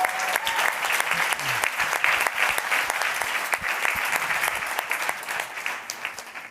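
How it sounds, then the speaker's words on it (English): Steady, dense applause from a live summit audience, sustained clapping filling the room and tapering slightly at the end. "Can we get a big round of applause for GeekWire?"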